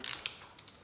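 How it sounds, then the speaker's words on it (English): A wrench loosens the pinch bolt on a Harley-Davidson Sportster with a few quick, faint metallic ratcheting clicks, close by and brief, with no talk. "just removing, or loosening, sorry, the pinch bolt, like so."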